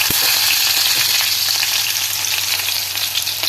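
Fenugreek, fennel seeds and shallots fry in hot oil with a loud, steady crackling sizzle that runs the whole time, with a low hum underneath and no voices.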